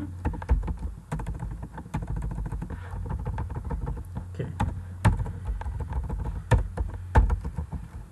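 Fast keyboard typing of assembly language code, a close run of sharp irregular key clicks over a low steady hum, with no talk.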